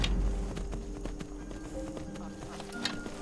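Hooves clip-clop on the ground from a horse in the video game Skyrim VR, with quiet, rhythmic steps heard over a low background hum.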